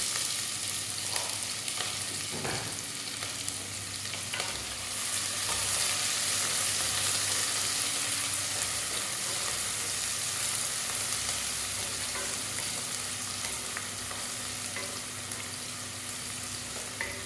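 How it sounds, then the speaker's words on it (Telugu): Chopped onions and green chilies frying in hot oil for a cucumber tomato curry, a steady close sizzle that crackles on throughout with occasional stirring noises, and no one talking. "తర్వాత కట్ చేసి పెట్టుకున్న ఉల్లిపాయ ముక్కలు వేసుకోవాలి."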